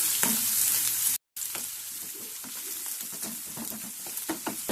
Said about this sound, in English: we need to cook them until the onions get translucent